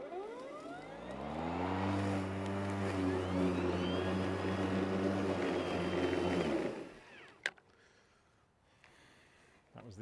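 An Ego Select Cut 21-inch battery lawn mower makes one pass over grass with mulch plugs fitted: a steady, loud whirring hum that holds for several seconds, then winds down, followed by a couple of faint clicks.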